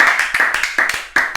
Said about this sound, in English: let's clap her in, boys